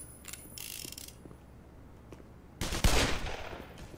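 Gunfire in the video game Black Mesa, a burst of weapon shots and mechanical clatter coming in loud near the end after quieter clicks and game noise, with no talking.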